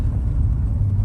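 Low rumbling engine and road drone from a 1961 Studebaker Hawk driving down a street, steady and close for about a second with no voices.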